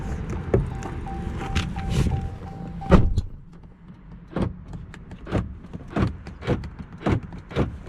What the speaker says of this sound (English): Check, make sure the window closes nice.